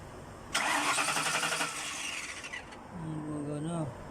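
A Ford Grand Marquis engine cranks with a steady starter whir for about two seconds, then catches and settles into a low, even idle, close and fairly loud.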